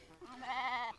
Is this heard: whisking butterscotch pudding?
no